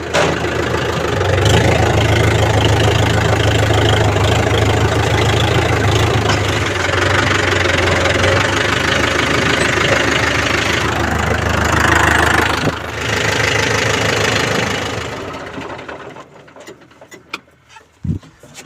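A tractor loaded with bananas chugs steadily at a low idle, loud and close for most of the time, then cuts out into near silence.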